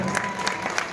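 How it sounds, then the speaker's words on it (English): Audience applause at a high school winter concert, a brief burst of steady clapping from the crowd at moderate volume with no voices over it. "Let's give a round of applause for Juliet on the woodblock, Thomas on the w"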